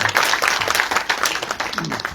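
A crowd at a Maharshi Valmiki celebration programme claps in a thick, continuous flurry of many overlapping handclaps, loud and close, holding steady for about two seconds with no speech.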